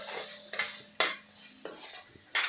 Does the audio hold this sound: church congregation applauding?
no